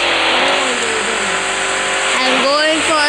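Car engine revving in a roleplay city video game, a steady mid-pitched drone with rising and falling pitch sweeps near the end, running continuously under a talking voice.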